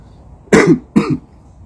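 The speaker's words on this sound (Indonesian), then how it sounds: "Saya agak batuk ya" Two short, sharp coughs in quick succession, close and clear against a quiet background.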